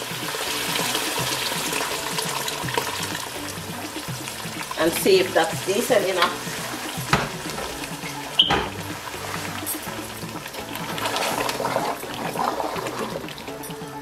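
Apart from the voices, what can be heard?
water being poured into a pot of rice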